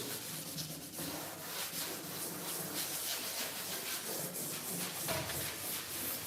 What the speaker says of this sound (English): Now this is very quick sanding